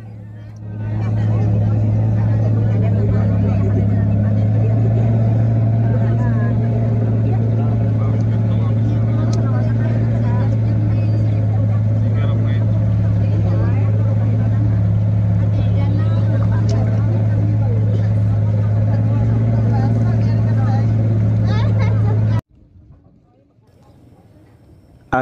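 A boat motor drones steadily and loudly while crossing Situ Lengkong lake, a steady low hum that runs for about 22 seconds and then cuts off abruptly, leaving quieter ambient sound.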